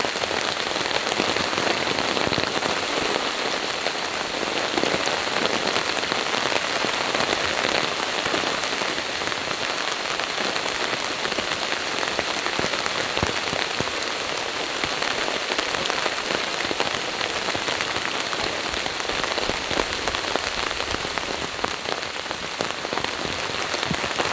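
Heavy hurricane rain pours down at a campsite in cool weather, a dense, steady hiss of drops drumming on a surface, loud and unbroken throughout with no voices.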